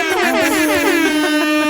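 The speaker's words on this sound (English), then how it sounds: "Insert air horn sounds." Air horn sound effect blasting loud and close, a sustained blaring tone with a wavering, pulsing texture lasting the whole short burst, no voices.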